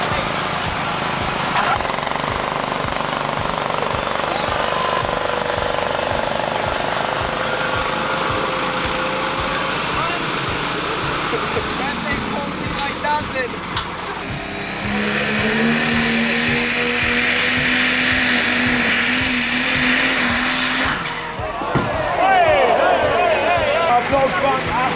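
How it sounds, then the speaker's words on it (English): Tractor-pulling engines at a pull event roar and idle, a loud rough drone that surges to a strained, rising howl midway before easing back, with a few voices mixed in. "In the world of tractor pulling, chaos is part of the charm. Welcome to a battlefield of engines, smoke, and surprises."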